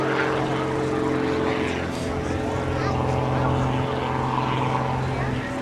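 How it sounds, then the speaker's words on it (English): A propeller plane's engine drones loudly and steadily at an airshow, a continuous harmonic roar that swells slightly as the aircraft climbs. "It's very noisy in that airplane."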